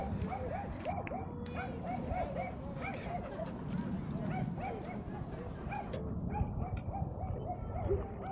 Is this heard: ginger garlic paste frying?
no